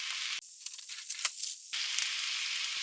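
Green beans and an egg boil together in a pot of water for a bento, giving a steady close hiss with a brief sharper crackling burst in the middle, and no voices.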